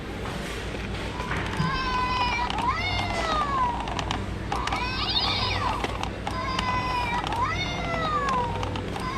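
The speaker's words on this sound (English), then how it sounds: "There's a cat." Several cats meowing in repeated rising and falling calls, with people talking and moving about in the background.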